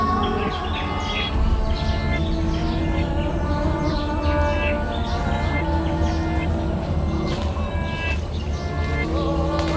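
Many birds chirp and call over one another in a dense forest of giant trees in Cansinala, Pampanga, a continuous layered chorus with steady background noise and no voices.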